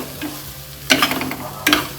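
Salt being mixed into a coconut cooking mixture in a pan: quiet background, then two distinct bursts of spoon scraping and stirring, near and fairly loud, with no voices.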